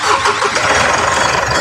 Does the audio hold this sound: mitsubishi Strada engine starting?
yes